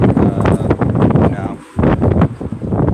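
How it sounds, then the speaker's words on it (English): Strong wind buffets an outdoor microphone in loud, continuous rumbling gusts that dip briefly near the middle before surging again. "Holy shit, it's fucking windy."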